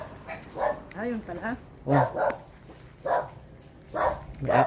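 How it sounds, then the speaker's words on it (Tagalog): A dog barks repeatedly in short yelps at a moderate distance while people talk nearby. "May aso po, mga kabayan."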